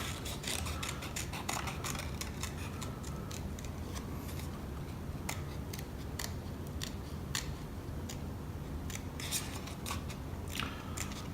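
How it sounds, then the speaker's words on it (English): Scissors snipping through paper to cut out a small heart shape for a handmade scrapbook housewarming card, a close, quiet run of crisp clicks and short cuts repeating unevenly, with no talking. "All right, let's take our scissors."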